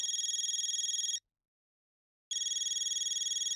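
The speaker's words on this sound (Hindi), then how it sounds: "मामी का फोन।" An electronic telephone ringtone sounds in a Hindi family sitcom, with two loud, steady, trilling bursts separated by about a second of silence.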